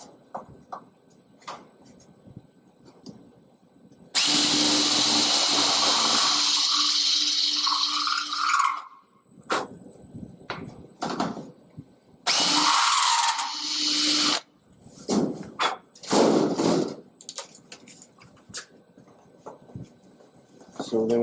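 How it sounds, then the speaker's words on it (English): A power drill spins a countersink cutter with a stop into a rivet hole on an aircraft wing in two loud whirring bursts, separated by clicks, handling noises and a few shorter buzzes. "So that fits into the hole number 30 and keeps it straight when it countersinks."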